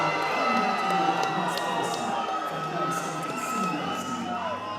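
A crowd at a fight event cheers and shouts for a fighter entering the red corner, giving a steady, loud wash of voices with scattered whoops throughout.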